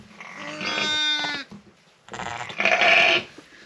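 Sheep bleating at a farm in winter, where a ewe with a hot, inflamed udder is milked and a weak newborn lamb is cared for: two loud, close, drawn-out bleats separated by a short pause, with no talking.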